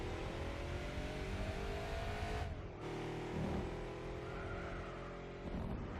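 Race car engines in Gran Turismo 4 drone loudly and steadily, with a brief dip in the sound partway through before the sustained engine roar resumes.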